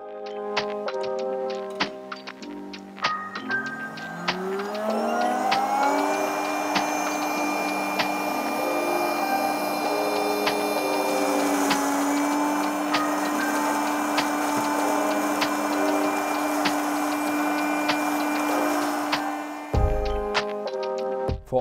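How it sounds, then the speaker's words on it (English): PULVERISETTE 14 variable speed rotor mill cryogenic grinding with liquid nitrogen: a steady, loud machine whine with rising tones builds up after a few seconds, runs continuously and then cuts off near the end, with scattered clicks and ticks. "Now we can start the grinding."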